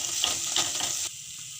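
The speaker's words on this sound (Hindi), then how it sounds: "हमने मसाला बहुत अच्छे से भून लिया है" Masala mixed with curd and salt sizzles steadily in a pan while being stirred for a jackfruit curry, loud and continuous, then drops abruptly to a quieter simmer near the end.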